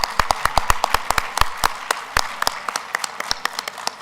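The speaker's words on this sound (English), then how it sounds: "Let's give them another round of applause." An awards ceremony audience applauds, with dense clapping and sharp individual claps standing out throughout, steady and fairly close.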